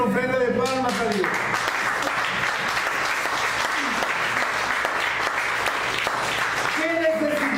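A church congregation breaks into sustained applause, loud, dense clapping filling the space from start to finish, with a preacher's voice heard briefly at the opening and again near the end.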